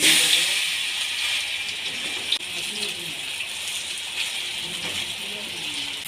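Taro fritters in gram flour batter fry in hot oil, making a continuous bright, hissing sizzle that stays close and fairly loud from start to finish with no talk.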